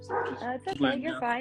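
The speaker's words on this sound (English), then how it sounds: "If you hear dog barking," Small house dogs yip, whimper and bark close by in short excited bursts, mixed in with a person speaking soothingly over them.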